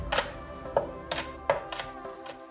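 A knife chops artichokes, onion and other vegetables on a board in steady, evenly spaced strokes, each cut a crisp close knock, with no talking.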